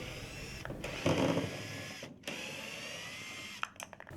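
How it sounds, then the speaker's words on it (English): Screws being removed from a bracket joining a temporary jamb to the head of a Pella OXXO patio door, a brief whirring driver burst and a few clicks and rattles, close and quiet. "Remove the screws from the bracket attaching the temporary jamb to the head."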